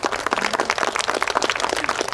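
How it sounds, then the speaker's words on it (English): An audience at a community solar farm ribbon cutting applauds steadily, with dense overlapping claps holding at an even level throughout. "Please give them a round of applause."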